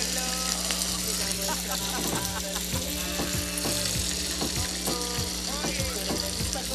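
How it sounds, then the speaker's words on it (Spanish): Corn tortitas frying in a pan of oil, a loud continuous sizzle with popping and spattering up close, steady throughout with some stirring noise and no talking. "freímos las tortitas"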